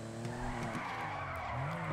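A Coquette Classic sports car in GTA 5 drifts with a steady, loud tire skid and squeal over a droning engine, continuous and close throughout.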